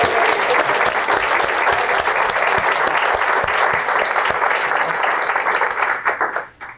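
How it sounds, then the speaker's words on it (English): An evening speaker-series audience on municipal leadership gives sustained, loud applause, a thick even wash of clapping that holds for several seconds before tapering off at the end. "Round of applause for"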